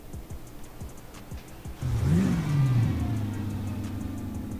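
A Mercedes-AMG GT S engine starts up in the video game GTA 5. Light clicks come first, then the engine cranks and catches, rising to a brief rev before settling into a steady rumbling idle.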